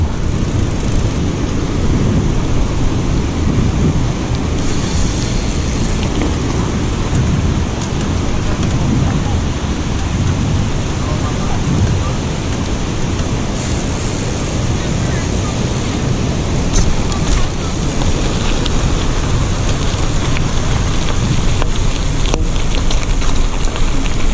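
Powerful rushing water from a release at Bustos Dam roars steadily and loudly throughout, a dense continuous wash with no pauses.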